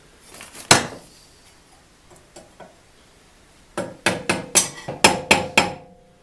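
A tool head is tapped onto a newly glued handle shaft by hand. A loud knock comes first, then a few softer taps, then a steady run of six or seven close, ringing hammer blows.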